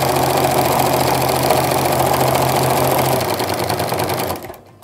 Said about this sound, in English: and keep on stitching